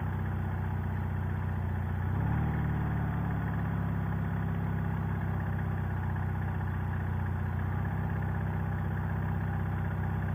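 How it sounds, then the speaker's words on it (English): A Martini Racing sidecar motorcycle engine idles with a steady low rumble and mechanical vibration, its pitch shifting slightly as the idle settles. "I got it idling a little better"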